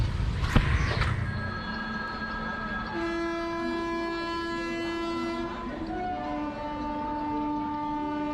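A train at Asangaon station on a suburban line near Mumbai sounds a long, loud horn blast over the steady rumble of passing rail cars, with a brief clank near the start.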